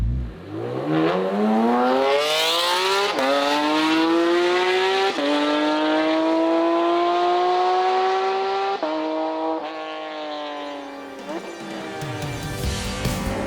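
A Porsche GT4 RS engine revs hard and climbs through the gears, each rising howl broken by a quick shift before the pitch drops and builds again. It is loud and close, with no voices over it.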